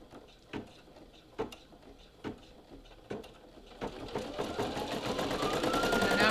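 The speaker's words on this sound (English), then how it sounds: "this next step is going to do a little satin stitch around it" A Brother PE800 embroidery machine stitches a satin stitch, starting with a few spaced mechanical clunks, then settling into a fast, steady, rising whir of rapid needle strokes, close and alone.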